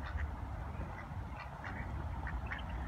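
Mandarin duck quacking in short, repeated calls over a steady low rumble of background noise, fairly close and with no voices.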